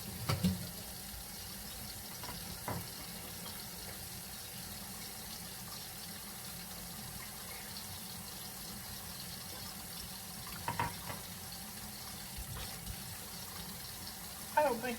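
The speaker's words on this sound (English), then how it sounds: "I'm going to turn my hot water on and let it be getting hot while I'm doing this" Hot water running from a kitchen tap, a steady faint rushing stream throughout with occasional small clinks and kitchen bumps over it.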